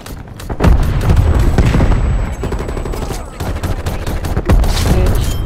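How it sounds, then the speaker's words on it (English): An artillery strike in Call of Duty: Cold War: loud, close bursts of gunfire and explosive booms hammering repeatedly across the whole stretch, dense and chaotic, with little speech. "Artillery targeting detected."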